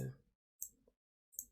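Quiet, sharp computer mouse clicks, three isolated taps spaced well apart over near silence, the first slightly fuller.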